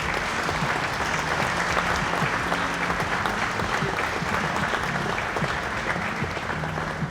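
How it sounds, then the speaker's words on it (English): A festival crowd in Wausau applauds Hmong veterans at the 2022 Hmong Wausau Festival, giving a dense, steady roar of clapping that holds at full strength from start to finish. "Let's give them another round of applause."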